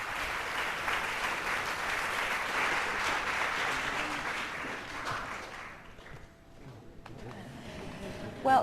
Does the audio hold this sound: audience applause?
yes